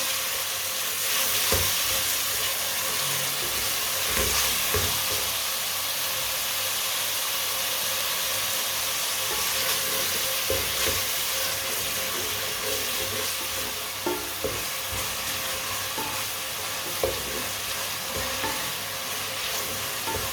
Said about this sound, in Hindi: टमाटर को भी 2-3 मिनट के लिए पका लेंगे।